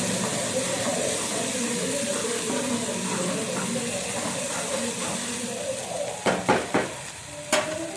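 Amla chutney sizzles steadily in a hot pan after being stirred into the tempering, a continuous frying hiss broken near the end by several sharp spoon scrapes and clinks.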